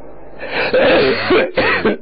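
Loud, harsh coughing and throat clearing from one person close up, several rough bursts run together with a brief pause before a final cough.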